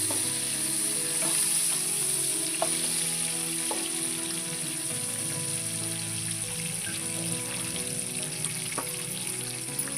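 Dried fish frying in a village kitchen pan, stirred gently and steadily; a constant close sizzle runs throughout with occasional light taps and scrapes of the spatula against the pan.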